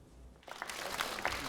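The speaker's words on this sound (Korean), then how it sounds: "기립박수를 받으며 의총장에 들어온 김문수 후보에게 권성동 원내대표가 꽃다발을 전달합니다" Lawmakers at a party caucus meeting give a standing ovation as a candidate enters the hall; after a brief quiet moment, a burst of many hands clapping swells up and carries on evenly.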